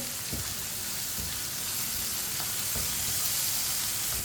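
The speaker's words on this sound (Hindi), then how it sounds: "सब्ज़ धनिया डाल लेंगे। अच्छी तरह मिक्स कर लेंगे।" Fried ridge gourd is stirred with fresh coriander in a pan, a steady soft sizzle with a few faint scraping knocks of the spoon, close and unbroken throughout.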